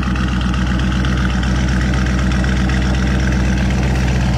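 A Lamborghini Urus idles with a loud, steady, deep exhaust rumble, close and continuous with no talk.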